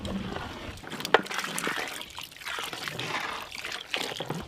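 Ground pepper stirred into water is poured during home cooking, giving a quiet, close trickle and splash of liquid that rises and falls over a few seconds, alone without talk.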